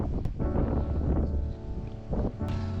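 Wind rushing and buffeting over a cyclist during a road bike descent in Valais, loud steady low roar that fills the whole clip with gusty surges.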